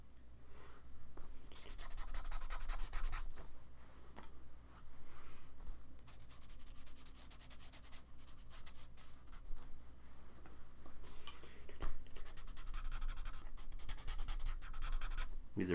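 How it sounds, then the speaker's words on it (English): Charcoal pencil drawing on paper: close, dry scratching and rubbing strokes in repeated bursts of varying length, with brief pauses between, no voices. "You can have a charcoal pencil that's pretty soft too,"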